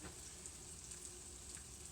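Soft, steady crackle and hiss of western omelette ingredients frying in a pan, continuous and fairly faint, with no voices.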